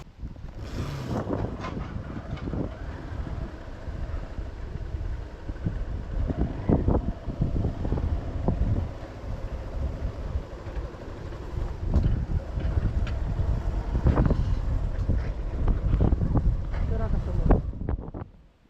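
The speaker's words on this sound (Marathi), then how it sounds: "वारा एवढा सुटलाय ना भरपूर" Strong wind blowing outdoors near the sea, a continuous buffeting rush against the microphone, loud and gusty throughout, with people talking intermittently.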